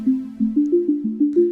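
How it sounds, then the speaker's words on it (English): A clean, pure Synth1 sine-wave tone run through an arpeggiator steps through a quick repeating arpeggio, each note starting with a soft attack in a steady rhythm, alone without voices. "this is a sine wave that's being ran through an arpeggiator"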